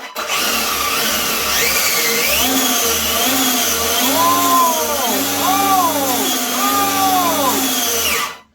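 A Traxxas XO-1 RC supercar's electric motor whines loudly up close, rising and falling through several rapid revs in a row, then cutting off.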